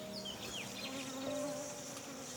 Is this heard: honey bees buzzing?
yes